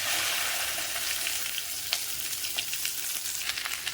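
Okra tossed into hot oil with mustard seeds and curry leaves gives a steady, close crackling sizzle, with a few sharper pops and spatters over the last couple of seconds and no voices.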